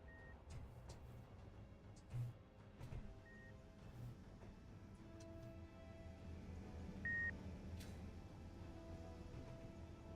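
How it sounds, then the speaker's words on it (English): A remote control locator in the game Space Engineers gives short, faint, high-pitched beeps, about three single chirps spaced several seconds apart over quiet background hum. "We have a beep here."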